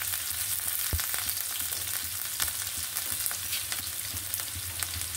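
Chopped onion and slit green chilies fry in hot oil with cardamom, giving a steady close sizzle with soft stirring scrapes and a few sharper pops throughout.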